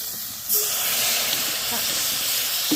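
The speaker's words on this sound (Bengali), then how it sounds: "আস্তে আস্তে একটু অল্প জল দিয়ে দিব" Water poured into a hot pan of frying dried fish sets off a loud, sustained steamy hiss that starts abruptly and holds steady, with faint clinks beneath.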